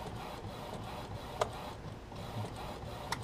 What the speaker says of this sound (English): now here it comes out of the printer, and it's going to take a couple more seconds